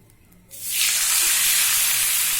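Tilapia fish drop into hot oil, and a loud sizzle erupts suddenly and holds as a bright, steady frying hiss after a quiet moment.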